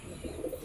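A brief, soft coo comes from pigeons kept for sale, among them Punjabi breeds. It is heard close by against a steady background hum, with no talking.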